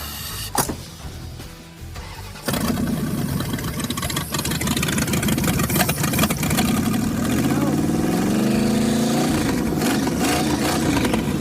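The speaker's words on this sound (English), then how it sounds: "New carburetor's on. I'm gonna have to see if I can get it running on some brake clean here." A car engine fitted with a new carburetor starts on brake cleaner after a brief quiet pause, then runs steadily and loudly up close, its pitch rising and falling slightly as it idles and revs.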